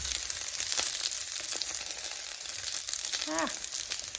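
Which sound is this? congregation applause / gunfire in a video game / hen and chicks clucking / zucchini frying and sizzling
zucchini frying and sizzling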